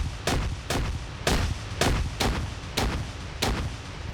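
Explosions and heavy gunfire in a large NATO versus Russia military video game match, seven sharp booming blasts at irregular intervals, each with a short rumbling tail.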